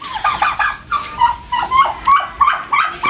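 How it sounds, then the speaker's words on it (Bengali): Turkeys at a pet market give loud, close rapid gobbling calls in repeated bursts, roughly one every half second, with no talking. "এখন দেখাবো টার্কি মুরগি।"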